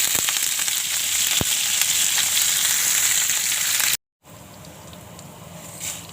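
Mustard seeds, garlic, chili and curry leaves sizzle in hot oil for a crisp thin-poha chivda, a steady close crackling and hiss that cuts out briefly before resuming a little softer.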